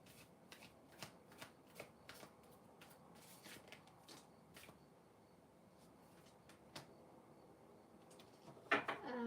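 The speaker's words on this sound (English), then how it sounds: "Cut the deck in half, which I thought I already did." Oracle card deck being shuffled and cut by hand, a string of soft riffling card flicks and taps at close range with quiet pauses, ending in a louder cluster of card sounds.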